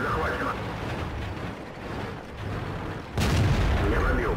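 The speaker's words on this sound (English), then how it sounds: "And here you can see that they are now shooting across." Tank cannons firing in World of Tanks during a Strongholds battle: a dull, low boom rolls under steady game noise, followed near the end by a louder, closer blast, with a voice talking over it.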